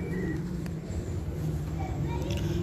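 Breeder pigeons coo in low, soft, repeated murmurs while being held and handled close by, with people talking steadily over the birds.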